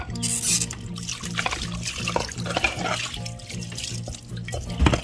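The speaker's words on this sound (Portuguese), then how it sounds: "molhar bastante esses pratos aqui, tirar esse excesso" Tap water runs over dishes being rinsed in a home sink, a continuous splashing trickle with clinks, while a low background hum or music plays beneath.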